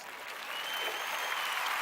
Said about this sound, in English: And that deserves a round of a fucking applause.